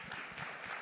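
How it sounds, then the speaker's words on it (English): Conference audience at a marketing event in Las Vegas applauding the panelists, a steady wash of clapping at moderate distance, continuous throughout the short burst. "Let's give a round of applause to all of our panelists here, first and foremost."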